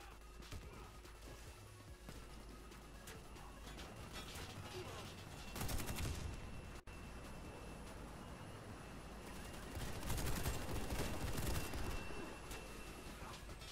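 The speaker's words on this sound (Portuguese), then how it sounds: "quem que tá dando tiro que nem doido, velho?" Rapid video-game gunfire crackles in two dense bursts of shots over a steady background of game noise.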